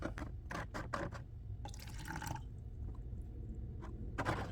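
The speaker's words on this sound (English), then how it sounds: "So what I'm going to do is dump some of it off so that I can see how much we actually have here." Water is poured off from a measuring cup in a moldmaking workshop, giving a run of quick splashing pours and drips, then a short steady gush, followed by lighter trickles and a final splash.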